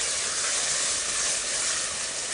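Ground meat sautéing in a pan gives off a steady, bright, dense sizzle. The hiss stays even and fairly quiet throughout, with no talking over it.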